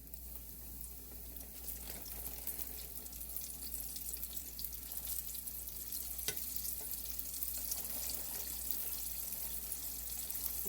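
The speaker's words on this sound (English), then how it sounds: "this grease is good and hot, even though I have backed it down. Sizzle, sizzle." Steady, continuous sizzling and crackling of hot grease in a pan, fairly constant in loudness throughout, with no voices.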